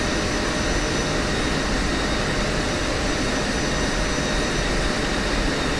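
An F-16C jet engine taxiing in the Digital Combat Simulator video game produces a loud, steady, broadband roar that holds constant throughout with no voices.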